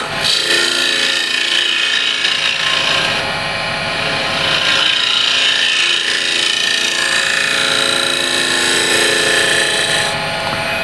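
A French curve scraper worked gently across walnut burl turning on a lathe gives a sustained, loud scraping rasp with slight swells in intensity over a constant motor hum, no voices.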